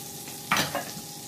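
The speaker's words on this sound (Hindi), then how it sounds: "बटर पिघलने का वेट बिल्कुल ना करें, तेज पत्ता डालें और मिला लें।" A bay leaf drops into melting butter in a kadhai, giving a brief soft sizzle and stirring scrape, close and fairly quiet.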